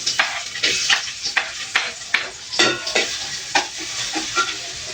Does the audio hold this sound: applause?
no